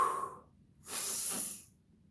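A deep breath pushed out hard during a core workout, a breathy hiss that swells for under a second and then fades, heard alone after a brief quiet moment.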